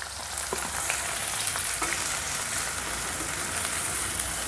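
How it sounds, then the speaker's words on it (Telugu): Chopped green chillies and onion pieces hiss and crackle in hot oil over a low flame, a dense continuous sizzle that swells after the onions go in, close by and with no voices. "పచ్చిమిర్చి వేసిన వెంటనే ఈ ఉల్లిపాయ ముక్కల్ని కూడా వేసుకుందాం."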